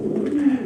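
A white pigeon gives a single soft, low coo, close and brief, with no talk over it.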